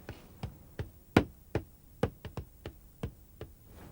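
About a dozen irregular knocks rap on a locked room door, fairly faint and hollow, some sharper and louder than others, with no talk over them.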